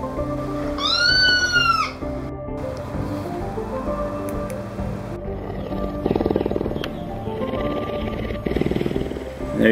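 Cat meow effects played from an Adafruit soundboard on an animatronic tail project, with a sharp electronic meow near the start followed by growling, purring-like cat sounds that run on at close range.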